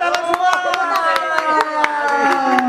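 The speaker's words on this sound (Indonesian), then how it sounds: "Tepuk tangan semua." At a birthday celebration for a mother, a group claps in a steady rhythm, sharp repeated claps running under loud singing voices.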